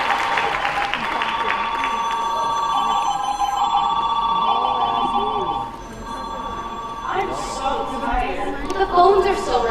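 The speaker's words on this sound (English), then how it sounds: "Phones are still ringing." Several telephones ring repeatedly in a large hall, their bright trilling bells overlapping amid crowd chatter and talking, with some clapping near the end.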